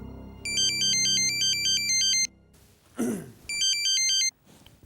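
A phone rings with an incoming call from a taxi driver, a loud electronic ringtone that plays in two bursts with a short gap and a brief swooping sound between them, heard alone with no talk.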